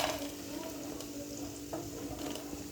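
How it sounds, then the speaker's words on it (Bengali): Fish pakoras coated in rice flour fry in a pan of oil with a soft, steady sizzle, while a few light scrapes and taps from a spoon or utensil sound as they are lifted out. "তো পকোড়াগুলো ভাজা হয়ে গেছে, দেখো এখন নামিয়ে নিচ্ছে।"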